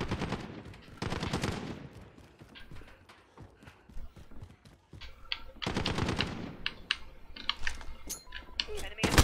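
Enemy gunfire in Call of Duty Modern Warfare, bursts of rapid automatic shots coming in clusters with quieter gaps, fairly close and sharp, mixed with other game sounds.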